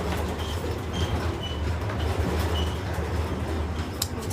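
A double-decker passenger train in motion, heard from inside as a steady rumbling roar with faint squeals and hiss, no talking.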